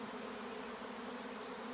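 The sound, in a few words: honey bees swarming into a hive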